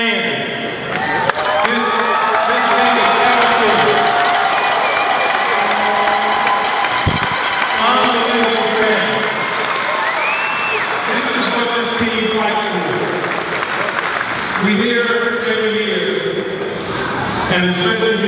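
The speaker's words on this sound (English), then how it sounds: "big applause, big applause to the best fan." Basketball fans of the Halifax Rainmen cheer and clap in an arena, a loud, continuous crowd roar with shouts, while an amplified voice talks over it almost throughout.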